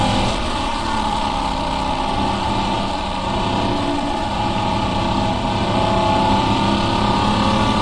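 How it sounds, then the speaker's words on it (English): Six-cylinder Holden HQ sedan race car engine in the rFactor 2 racing game, a steady loud drone under acceleration, continuous throughout with no voices. "Little blast of the 6-cylinder into Siberia."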